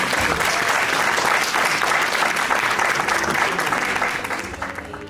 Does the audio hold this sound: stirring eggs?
no